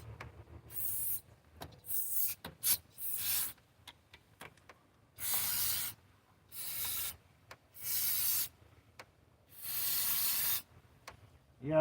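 Brake cleaner is sprayed into an engine cylinder in a series of about nine short, sharp aerosol hisses, each separated by a brief pause. The bursts are close and clear in an otherwise quiet space.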